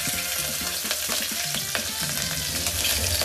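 Green chillies sizzle and crackle in hot oil with mustard seeds in a pan, a loud, close, continuous frying hiss with occasional stirring scrapes and pops, no voices.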